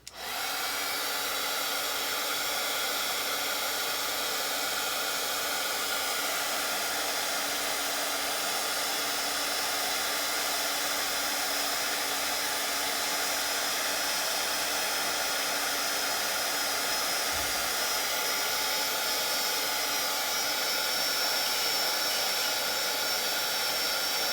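A heat gun blows steadily and loudly without pause, melting distress glaze embossing powder on vintage paper dolls, a constant close-up whoosh with no voices over it.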